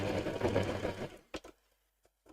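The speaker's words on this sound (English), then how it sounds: "I'm going to start sewing." A sewing machine stitches a skirt in a steady, dense whirring run that stops abruptly, followed by a few sparse clicks and taps of the machine close by.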